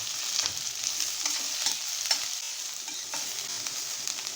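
Sliced onions fry in oil with bay leaf and cardamom for misal pav, giving a steady close sizzle with intermittent scrape-like stirring clicks throughout.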